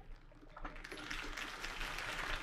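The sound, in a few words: crowd applause in video game Batman Telltale Series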